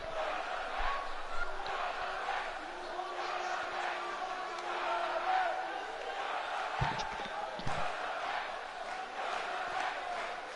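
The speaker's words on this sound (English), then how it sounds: "he has got the crowd ripping and roaring" A large crowd roars and shouts continuously in the distance, with a couple of dull thumps and a voice rising through the din.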